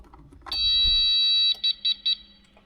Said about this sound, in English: I heard that extra beep is telling me I got maintenance coming up